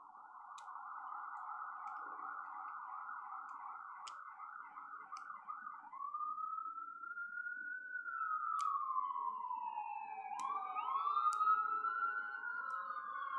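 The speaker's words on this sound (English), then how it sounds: "You guys hear the sirens?" Emergency vehicle sirens wail outside, first a rapid yelp cycling for several seconds, then long rising and falling wails that swell louder and overlap as more units seem to join near the end, with no talk over them.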